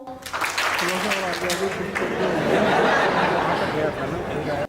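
Clapping from a training-seminar audience breaks out amid voices and some laughter, a busy burst of hands that swells and continues with chatter mixed in.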